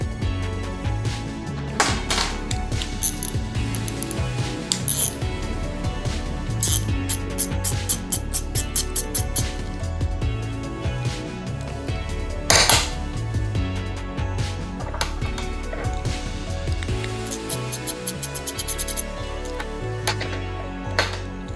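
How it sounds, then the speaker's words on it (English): A set screw is worked out of a Jr Dragster Shockwave clutch during a rebuild, heard as close metallic clicking, ratcheting and clinking of tools and parts, dense and uneven throughout. "Take out this set screw."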